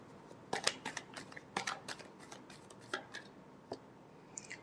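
Tarot cards are shuffled in quick, irregular bursts of crisp riffling and slapping, fairly close but quiet, with short pauses between flurries.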